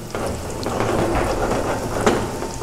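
Potato finger chips fry in hot oil over a low flame for masala fries, a loud, dense, continuous sizzle with scattered crackles and pops and no voices.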